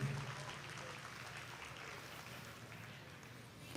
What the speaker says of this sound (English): Let's give them a nice round of applause as they leave the ring.